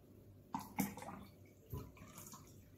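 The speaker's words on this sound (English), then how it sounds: "Fill it up to the very tippy top." Water poured into a container for a classroom adhesion demonstration, a few short splashes and trickles, close and fairly quiet.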